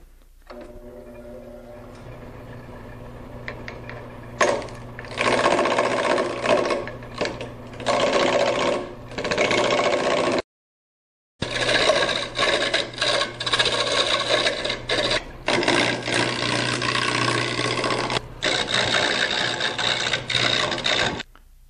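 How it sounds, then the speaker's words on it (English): A wood lathe spins a mattock handle blank as a 1-inch spindle gouge roughs it down, giving loud, continuous close-up cutting and rasping with a brief stop partway through before the cut resumes. "It's going to start here using a 1-inch spindle gouge for roughing out purposes."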